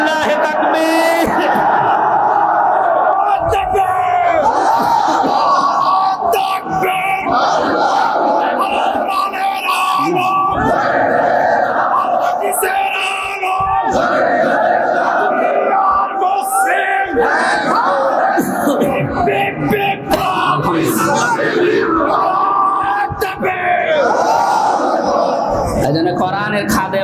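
A large crowd at a Bangladeshi Islamic sermon gathering (waz) roars Allahu Akbar in unison, a loud, dense wall of massed shouting that surges and holds for nearly half a minute with little letup.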